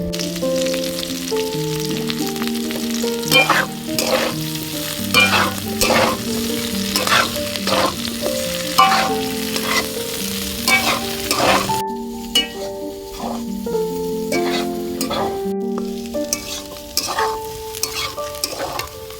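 Chopped onion frying in a pan with potato and cauliflower, with a steady sizzle and repeated stirring scrapes throughout, under tuneful background music.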